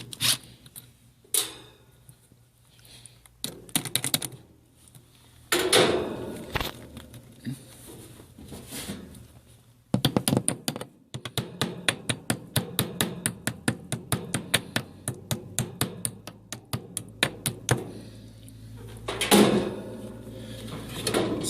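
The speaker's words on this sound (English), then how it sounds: "Let's go ahead and pull off our spigot handle." A hose spigot handle fitted with a backflow preventer is pulled off and turned, giving scraping metal sounds followed by a long run of rapid, close ratcheting clicks.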